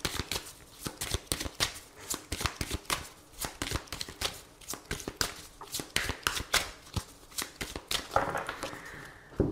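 Oracle cards are shuffled in the hands: a rapid, close stream of crisp flicking riffles and slaps that continues almost without pause throughout.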